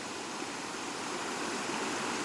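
A river flowing at night during crab catching in the first rains, heard as a steady, even broadband rush of moving water, moderately quiet and continuous with no voices.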